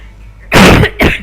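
A man gives two sharp, loud coughs close to the microphone, the first longer and harsher, the second short, after a quiet pause.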